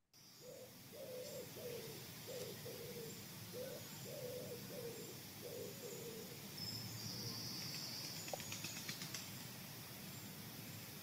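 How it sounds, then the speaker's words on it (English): A wood pigeon coos in a rhythmic series of soft, low hoots, then a faint flutter of wing claps from its display flight follows toward the end, heard outdoors at a distance among quiet background noise. "you'll get the display flight of the wood pigeon as well, which is a clap, clap of its wings"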